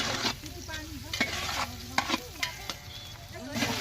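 Oil sizzling in a pan as tomatoes and other ingredients for a home-cooked biryani fry, with repeated close scraping strokes of a stirring spoon over a constant crackle.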